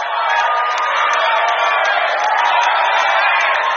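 A large crowd at the 2019 Indonesian presidential debate between Prabowo and Jokowi fills the hall with continuous loud applause and cheering, a dense, even roar with scattered whoops.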